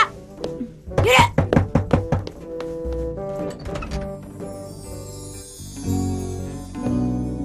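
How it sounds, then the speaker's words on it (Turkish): Heavy fists pound a door in a rapid run of about eight loud, close thumps, set in a domestic drama scene, followed by low music and room noise. "Kapıyı kıracak ya."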